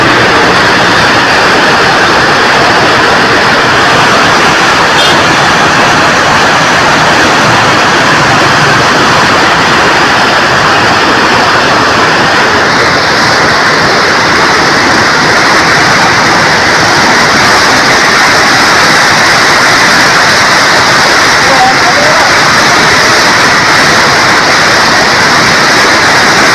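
River water roars steadily through the open gates of the Head Ganda Singh barrage, a loud, unbroken broadband rush that fills the whole stretch with no voices.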